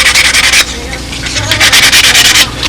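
A 1/64-inch plywood part for a prototype wing has its edge dressed off with quick rasping strokes, a fast rhythmic burst, then a pause, then another run of strokes, very close and loud.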